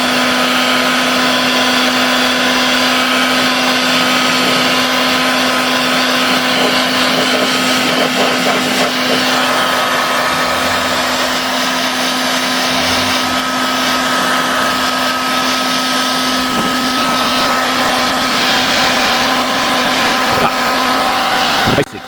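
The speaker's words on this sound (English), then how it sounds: "And we'll simply get our heat gun." A heat gun blows steadily on hazed lacquer in the engine bay of an abandoned rally car, a loud continuous whooshing drone with a constant whine that runs unbroken throughout.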